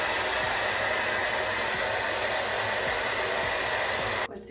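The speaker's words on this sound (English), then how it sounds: "I'm gonna blow dry this." A hair dryer blows steadily on a lace frontal wig, a loud continuous whooshing roar that runs almost without change before cutting off abruptly near the end.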